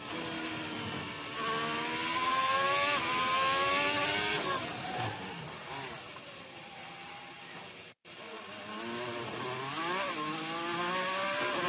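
A Ferrari SF1000 Formula 1 car howls at high revs through a Bahrain race, its pitch climbing and dropping through gear changes in a loud, continuous engine wail with a brief cut near the end.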